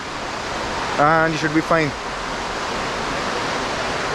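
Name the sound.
waterfall and mountain stream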